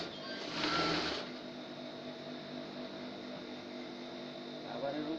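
A sewing machine hums steadily while stitching beside the elastic of a salwar, a close, even mechanical drone with a brief louder burst near the start.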